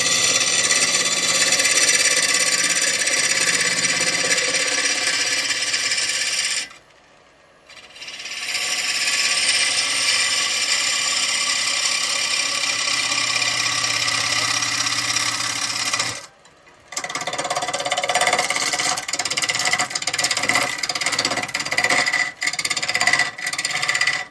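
A woodturning lathe cutting into a lump of ash wood, a loud rough scraping hiss as the tool bites the spinning piece, broken by two short pauses where the cut stops before resuming.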